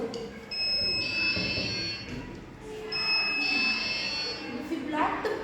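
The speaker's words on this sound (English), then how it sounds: "the LDR will sense that the person is going inside and the buzzer will be beeping" A light-sensor (LDR) home security alarm sounds its buzzer in two sustained, shrill tonal bursts of about two seconds each, separated by a short gap. A faint voice is heard underneath.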